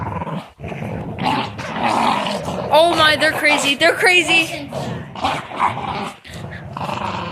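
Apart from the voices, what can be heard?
dogs growling while play fighting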